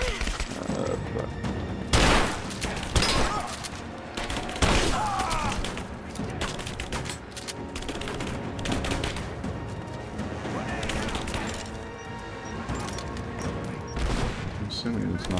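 Gunfire in the video game Rise of the Tomb Raider: dense, continuous rapid shots and heavy impacts with crashing bursts, loud and sustained throughout with no pauses.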